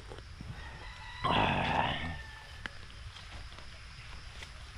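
A native rooster crows once on a farm, a single drawn-out call rising over a low, steady background hum, moderately distant.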